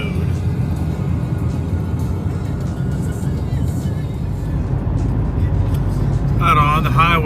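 A supercharged 2020 Ford Shelby GT500 cruising in normal mode at low revs makes a steady low engine drone and road rumble inside the cabin, with a voice briefly heard near the end.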